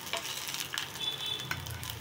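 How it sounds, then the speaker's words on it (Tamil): Ghee sizzles and spices crackle steadily while tempering in a hot pan, with scattered sharp pops over a continuous frying hiss, close and moderately loud. "நம்ம வெடிக்கிற அளவுக்கு கலந்து கொடுத்துக்கலாம்."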